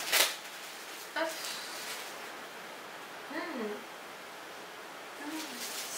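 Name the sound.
unwrapping a product wrapped in bubble wrap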